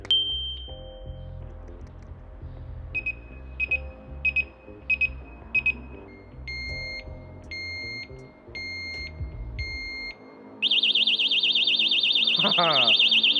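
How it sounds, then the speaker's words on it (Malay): A disc lock anti-theft alarm, set off by tampering, beeps shrilly in short repeated bursts, then switches to a loud continuous wailing tone, with people talking underneath at first. "Kalau kata ada gangguan, dia akan berbunyi dan alertkan orang ramai lah."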